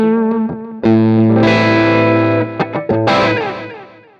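Electric guitar through an Axe-Fx II with a pronounced delay: a few plucked notes, then sustained distorted chords whose echoing repeats ring out and overlap, loud and up close with no talking.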